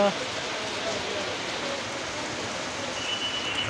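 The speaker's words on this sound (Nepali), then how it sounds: "पानी पानी पर्दैछ" Steady rain pours down over an outdoor sports ground during a girls' college match in Nepal, a dense, even hiss that holds at a constant level throughout.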